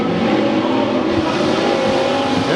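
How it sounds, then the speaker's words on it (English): IMCA stock cars race at Bakersfield Speedway, engines roaring loud and continuous at close range, a dense full-throttle drone with no talking. "IMCA stock cars."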